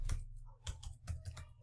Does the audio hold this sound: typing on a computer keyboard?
yes